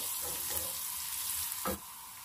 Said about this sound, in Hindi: लहसुन को गोल्डन ब्राउन होने तक पकाएंगे।